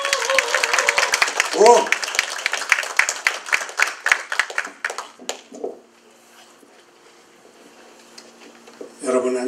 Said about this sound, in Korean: 나오실 때 박수 열심히 환영해 드리겠습니다.